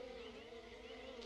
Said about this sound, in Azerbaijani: Arılar var amma burada.